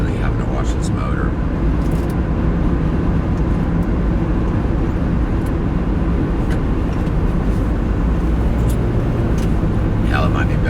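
A semi truck's engine drones steadily while driving, a loud, continuous low rumble with road noise throughout and no pauses.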